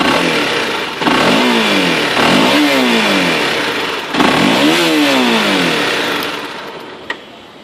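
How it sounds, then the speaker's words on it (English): Honda CBR 250R single-cylinder motorcycle engine revving up and down repeatedly, three or four rising and falling throttle blips over a steady idle, loud and close, with no talk. "I'm gonna just rev it and show you guys how it sounds like"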